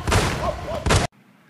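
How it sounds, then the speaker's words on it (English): Two sharp, loud bangs like gunshots, about a second apart, the second cutting off abruptly into quiet. "Oh, gunshots."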